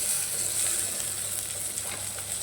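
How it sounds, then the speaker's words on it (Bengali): Tiny kachki fish go into a pan where eggplant is already frying in oil, giving a steady, close, dense sizzle that holds evenly throughout with no talking. "বেগুনটাও ভাজা হয়ে এসছে। এবার মাছগুলো দিয়ে দেবো আস্তে আস্তে।"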